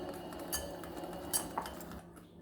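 Cocoa powder being mixed into melted butter in a bowl, heard as a few quiet clinks and taps of a spoon against the bowl over a soft background hum.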